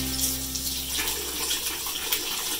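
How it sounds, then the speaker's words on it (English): Hot tap water running over a tuba mouthpiece in a sink to rinse off soap suds, a continuous splashing hiss that shifts in tone as the stream hits the metal, close and steady. "Thoroughly rinse out the mouthpiece with the hot water to get all the suds out."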